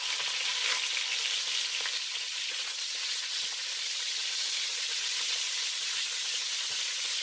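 Chicken pieces frying in hot oil in a pan for mafé, a steady dense sizzle with crackling spatter throughout, close and continuous with no talking.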